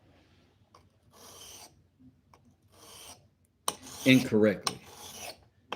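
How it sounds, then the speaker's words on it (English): Carving tools being sharpened with a hand file, in short rasping strokes at first, then a louder run of quick, scraping file passes close to the microphone. "I am reblading these and sharpening these tools up"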